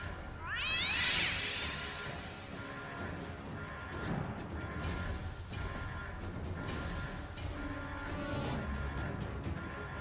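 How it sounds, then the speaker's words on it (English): A cartoon cat gives a loud, rising meow near the start in the South Park The Fractured But Whole game, followed by clatter, scuffles and background game sounds. "He's got a cat on an attack vector."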